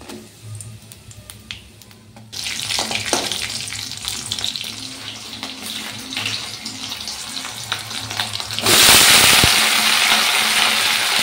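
Chopped cabbage frying in a pan, starting as a quiet sizzle and then turning into loud, steady crackling and hissing, which grows even harsher near the end as more heat or oil hits the pan.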